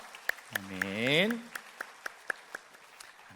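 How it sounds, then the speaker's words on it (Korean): Congregation applause at a Sunday church service after a choir and chamber ensemble performance, heard as a slow, steady run of distinct claps at moderate distance while a voice speaks briefly over them. "우리 하나님께 영광의 박수 올려드리겠습니다"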